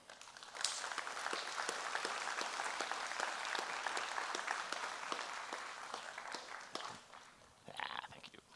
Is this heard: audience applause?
yes